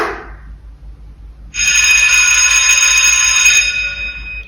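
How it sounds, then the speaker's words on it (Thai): After a brief quiet moment, an electric school bell rings once in a long, loud, continuous metallic ring lasting about two seconds. "เมื่อเด็กๆนะคะ ได้ยินเสียงกริ่งหนึ่งครั้งแบบนี้นะคะ"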